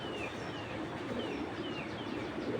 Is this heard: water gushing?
no